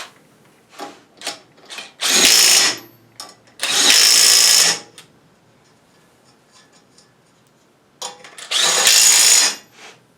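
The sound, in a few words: power tool tightening nut on Dana 44 brake knuckle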